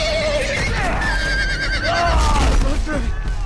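A horse neighs loudly with a shrill whinny in the Game of Thrones video game, over a busy game soundscape and hoof clatter, with someone talking throughout.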